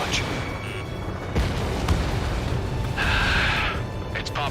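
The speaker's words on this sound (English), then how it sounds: "H2, missile launch." A missile launches in the jet combat game Ace Combat 7, a sustained roaring burst set against a steady loud battle din, with a brighter rushing swell near the end.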